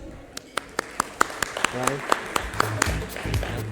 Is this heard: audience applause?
yes